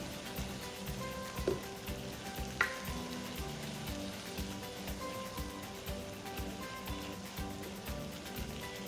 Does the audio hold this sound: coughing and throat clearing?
no